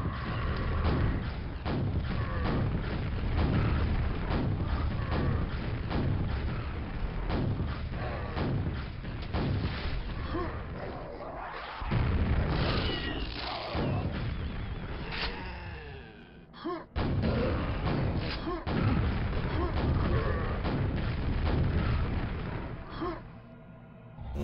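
Rocket explosions in the video game Quake, heavy repeated booms and thuds packed densely across the whole stretch, loud and continuous with brief lulls.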